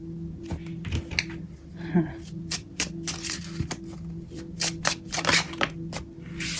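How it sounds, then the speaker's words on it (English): Tarot cards are shuffled in a series of crisp, papery riffles and taps, with a steady hum underneath and a voice speaking only faintly in the background. "I'm going to pull a few more cards before I say."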